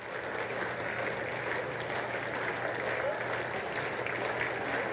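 Sparse, tepid applause from the chamber audience during the walk-in before the 2022 State of the Union address, a steady low wash of clapping over room murmur and faint voices.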